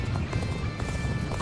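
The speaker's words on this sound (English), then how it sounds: "My horse is too fast," Horse hooves clip-clop steadily at a gallop in the video game Dynasty Warriors: Origins, with rapid even beats over low rumbling battle noise and no speech.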